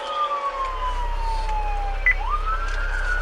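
A Milwaukee police car siren during a pursuit, a loud wailing tone that slides down slowly, then sweeps back up, over a low engine rumble.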